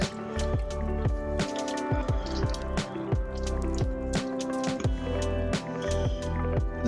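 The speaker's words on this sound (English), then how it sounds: "take your butter solids, squeeze out as much of the buttermilk as possible" Wet squelching and dripping as butter solids are squeezed by hand to press out buttermilk, repeated squishes with liquid dribbling out, close and clear with no talking.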